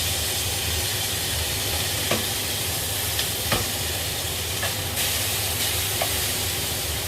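Two steaks frying in a hot pan under a paper towel give a dense, steady sizzle and hiss, with a few faint clicks and pops scattered through it. No one speaks.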